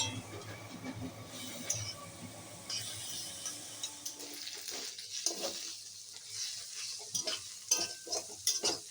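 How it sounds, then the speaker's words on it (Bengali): Chopped bottle gourd sizzles and fries in a pan while a spatula stirs and scrapes it in short bursts, loud and close with no voices. "লাউটা একদম দারুণভাবে ভাজা হয়ে গেছে"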